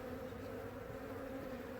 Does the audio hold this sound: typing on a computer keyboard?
no